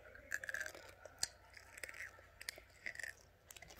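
Soft, close crunching bites into crunchy chocolate followed by quiet chewing, crisp crackles scattered over a few seconds at low volume.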